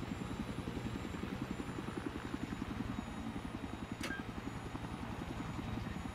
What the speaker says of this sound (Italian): L'elicottero.